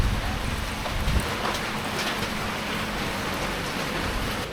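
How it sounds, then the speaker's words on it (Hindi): Heavy rain pours down steadily in remote Laos, a dense, loud hiss of water with no pauses, close and enveloping. "बहुत तेज़ बारिश आ गई इधर, रुकना पड़ेगा"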